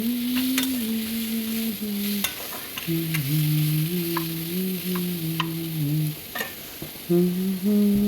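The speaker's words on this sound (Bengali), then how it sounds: "ওই শাকটাকে আমি এবারে এর ওপর দিয়ে দিচ্ছি, একটু হালকা করে নেড়ে নেবো এই তেলটাতে।" Boiled mustard greens are stirred and fried in hot oil in a pan, giving a steady close sizzle with repeated scraping stirs throughout.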